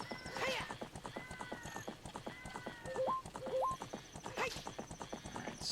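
Epona the horse in the video game The Legend of Zelda: Ocarina of Time gallops with a steady, rapid clip-clop of hooves, breaks into a loud whinny twice, and chimes from the game sound over the running.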